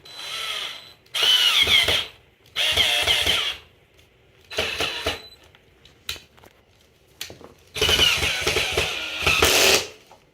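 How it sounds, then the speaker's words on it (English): A power drill drives screws while a DG Casa Lucas upholstered platform bed with drawers is assembled. Loud whirring bursts of one to two seconds repeat with short pauses between them, up close, with no talking. "I cannot find my screwdriver right now, so I'm just going to use the gun"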